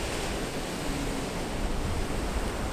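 Strong waves crash at Paradise Beach on a windy day, a loud continuous roar of surf and wind noise with no break.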